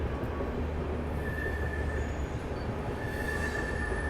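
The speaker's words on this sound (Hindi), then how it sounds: "फिलहाल अपनी ट्रेन पहुंच रही है मुरैना रेलवे स्टेशन" The Bhopal Shatabdi Express pulls into Morena railway station with a constant heavy rumble and a thin, drawn-out wheel squeal, heard from close by.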